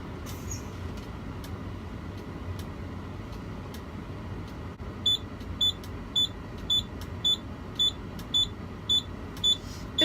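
Repeated short beeps from a tractor-trailer truck's dashboard warning buzzer during an air brake test with the tractor shut off, sounding in a steady, evenly spaced series over a low cab rumble.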